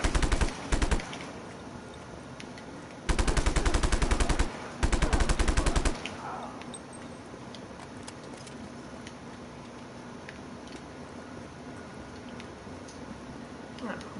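Rapid machine-gun bursts in Just Cause 3, three loud sustained volleys of automatic fire, followed by quieter game ambience and a few faint pops.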